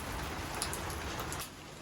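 Steady, even hiss of rain falling on a surface, fairly close and continuous, with no voices.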